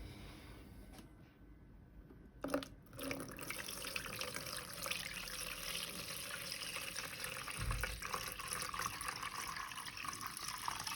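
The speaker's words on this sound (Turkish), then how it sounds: "Şimdi hemen bir su koyup deneyelim. Dökeyim." Water poured into the reservoir of a Wi-Fi smart cat water fountain, a continuous splashing fill that runs steadily after a brief pause, close and fairly loud with no talking.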